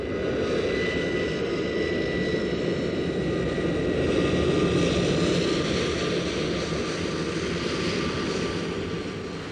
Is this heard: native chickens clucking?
no